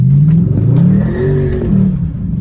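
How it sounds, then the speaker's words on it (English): A BMW 645ci slides with traction control half off, its engine droning loudly and tyres squealing in wavering tones, heard close and continuous without speech. "you can feel the car going, tyre screeching"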